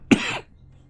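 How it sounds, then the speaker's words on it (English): One short, sharp human cough rings out close and alone, then trails into quiet. "my cough is like really bad right now"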